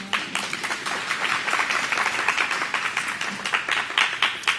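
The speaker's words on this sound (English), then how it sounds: "Give yourself a clap." A congregation at a Sabbath service claps together in a sustained burst of applause, fairly loud and even throughout, with many hands overlapping in a dense patter.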